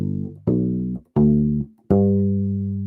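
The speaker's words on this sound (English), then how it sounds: "we're going to do a major arpeggio from that major scale" Four plucked notes of a major arpeggio on a U-Bass, the compact rubber-stringed ukulele bass, each a deep round tone that rings and sustains before the next, played alone and evenly spaced.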